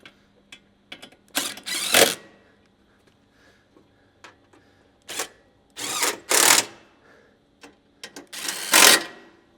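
Bumper bolts on a Toyota Tundra front bumper install are driven back in with a 12mm socket, producing three separate bursts of close, loud ratcheting whirr, with small mechanical clicks and taps between them and no talking.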